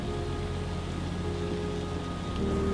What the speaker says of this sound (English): If you can't see it, then it means that it is already raining.